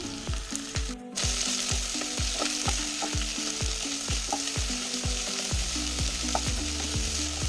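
Sliced onions, ginger-garlic paste and green chillies frying in oil for pepper chicken, a continuous loud sizzle under a steady rhythm of regular metallic scrapes and clinks from a spoon stirring the pan, with no talking.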